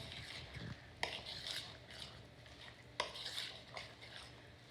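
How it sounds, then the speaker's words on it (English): A spoon works through apple oatmeal cookie dough in a bowl, with quiet scraping and rubbing strokes. Two sharper knocks of utensil against the bowl land about two seconds apart, all faint and with no talking. "So I'm just gonna mix this until it's just well mixed in."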